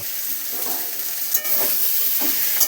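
A prawn, potato and bitter gourd curry sizzles in a pan while being stirred, a steady frying hiss with a few soft scraping strokes, close and alone.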